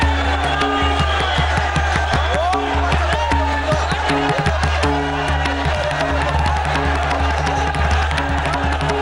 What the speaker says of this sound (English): Voices were barely heard over the chants of the crowd